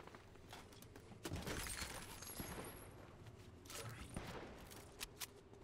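Gunfire in the video game Fortnite, heard as a few faint, broadband bursts of rapid shots, one around the middle and another later, set against a quiet, noisy in-game background.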